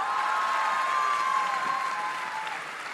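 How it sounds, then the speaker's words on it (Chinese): An audience at the final of a national college debating championship applauds in a steady, sustained burst of clapping that fades slightly toward the end, with no talk over it. "我们还要给他多一个掌声呢。"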